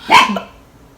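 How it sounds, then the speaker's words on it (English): A dog gives a single sharp bark up close, followed by a short fading tail, with no talk over it. "Excuse my dog."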